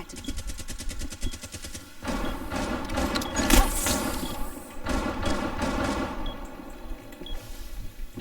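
Gunfire in Rainbow Six Siege, with bursts of rapid automatic shots and scattered single reports, a heavier cluster in the middle, dense and continuous over ambient game noise.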